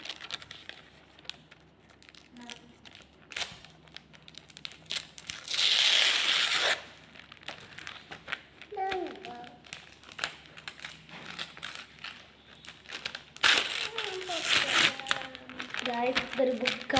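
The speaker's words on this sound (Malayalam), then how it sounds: "നമുക്കിത് എന്തായാലും അൺബോക്സ് ചെയ്ത് നോക്കാം" A gift package being unwrapped, with loud bursts of crinkling and tearing wrapping around the sixth second and again near the end, and softer rustling and handling between them.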